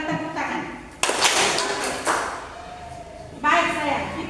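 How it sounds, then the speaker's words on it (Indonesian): A group gives one sharp hand clap in unison during a school program meeting, a loud burst standing out between stretches of a nearby speaking voice. "Satu kali tepuk tangan."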